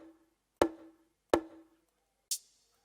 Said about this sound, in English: On its own, the bonga sounds like this.